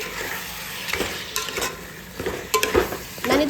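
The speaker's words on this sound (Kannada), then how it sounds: "ಇದನ್ನೆಲ್ಲ ಹಾಕಿ ಚೆನ್ನಾಗಿ ಮಿಕ್ಸ್ ಮಾಡ್ಕೋತಾ ಇದ್ದೀನಿ" Spice mix with garam masala and coriander powder being stirred in a pan, with a sizzle underneath and a series of close scraping, clinking stirs in an uneven rhythm and no voices.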